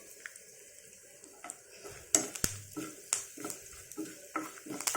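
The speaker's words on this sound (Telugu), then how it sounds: "ఇదిగోండి ఇంగు వేస్తున్నాను బాగా." Asafoetida dropped into hot oil for a mango, coconut and tomato chutney, with a soft sizzle under repeated metal spoon scrapes and clinks against the pan, close and fairly quiet.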